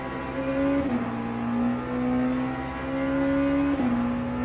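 Race car engine in the Le Mans Ultimate video game at Monza, loud and close, climbing steadily in pitch through gears with two brief dips at upshifts and rising again, with no talk.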